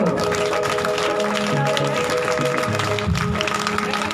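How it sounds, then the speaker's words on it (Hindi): Congregation clapping during a lively Hindi-speaking church service, steady dense applause throughout, mixed with music and voices. "ताली बड़ी बजा दो यार"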